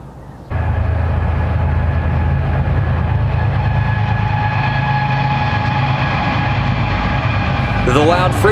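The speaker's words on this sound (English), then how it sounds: "The loud freight trains do not cease day or night." Loud freight train on the railway beside a Route 66 motel in Holbrook, Arizona, rumbling past in a sudden heavy continuous roar with tonal hum and clatter, close by, with a brief voice near the end.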